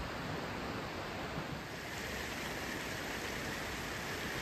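A river flowing in Yosemite in winter, heard as a steady, broad rushing wash of water that stays even and close throughout, with no voices.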